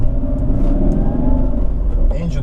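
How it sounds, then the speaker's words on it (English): BMW M5 E39 pulling at about half throttle in third gear, a deep, steady engine rumble heard from inside the car, with a brief burst of talk near the end. "the engine pulls absolutely beautiful"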